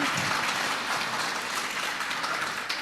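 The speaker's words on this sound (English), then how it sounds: "got a big clap from Dato Sri" An audience at a feng shui talk breaks into sustained, dense applause, a loud even wash of many hands clapping at once with no talking over it.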